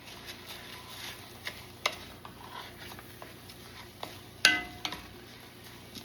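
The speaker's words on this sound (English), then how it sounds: "I'm going to toast my rice just a little bit" Uncooked rice toasting in a pan for lemon garlic rice, a quiet sizzle with scattered taps and a sharp scrape of a utensil stirring against the pan, no voices.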